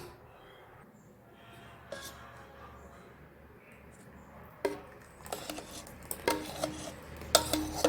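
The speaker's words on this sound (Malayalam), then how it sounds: "ഇതും നമുക്കൊരു ബൗളിലോട്ട് മാറ്റാം." A thickened cornflour mixture being scraped from a pan into a bowl: quiet at first, then clinking and scraping of a utensil against cookware growing louder and more frequent toward the end.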